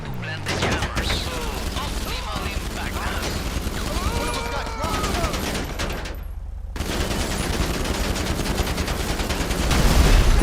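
AP pistol gunfire in GTA 5 Online, rapid strings of sharp shots firing in bursts amid other shooting and game effects, with a voice talking over the action.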